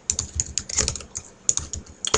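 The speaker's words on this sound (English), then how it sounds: "and then we're going to type in the new," Rapid typing on a computer keyboard, a close series of sharp key clicks in uneven bursts, with no talk.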